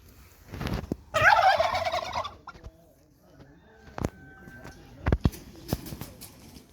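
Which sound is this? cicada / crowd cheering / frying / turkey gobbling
turkey gobbling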